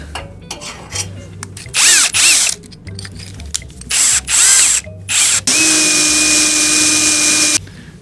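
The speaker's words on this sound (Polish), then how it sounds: "Jak to nawiercić teraz? Tępymi wiertłami." A power drill fitted with blunt bits drills during final fixes on a refrigerated truck, giving several short, loud, close bursts followed by a longer sustained whining run, with clattering handling noises between them.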